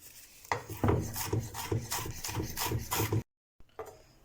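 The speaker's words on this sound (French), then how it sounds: "On va venir hacher tout ça relativement finement." A knife finely chops tarragon and chives with coriander on a board for chimichurri, a quick, regular run of crisp thuds that stops abruptly near the end, then one or two last taps.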